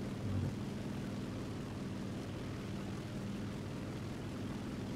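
A La-5 fighter plane's engine in the War Thunder video game drones steadily and loudly throughout, a constant rough propeller hum with no pauses.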